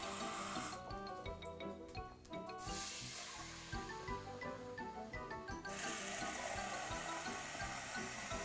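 Roughly four cups of water are poured into a cooking pot for beef stew, a steady splashing, gurgling rush that swells and eases in bursts, close up with no talking.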